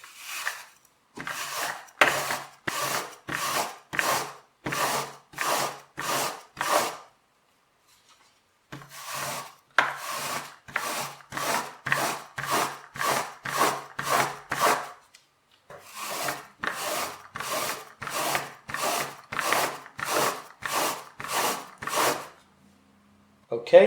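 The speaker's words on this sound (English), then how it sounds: "Okay, so we brush 10 times in the center." Rhythmic scrubbing strokes of a stiff brush on a fabric stain, in quick bursts of about ten strokes separated by short pauses.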